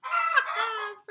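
A hen gives a loud, drawn-out squawking cackle after a phantom egg laying, one sustained call ending with a short extra note, heard up close and alone.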